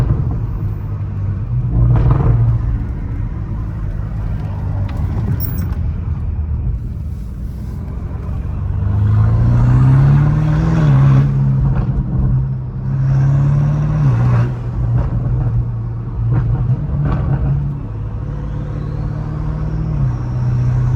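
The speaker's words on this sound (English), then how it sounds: "that turbo noise is everything" A BMW M5 Competition with a catless exhaust and turbo rumbles loudly up close, a deep, continuous growl that swells as revs rise and fall, with no talking over it.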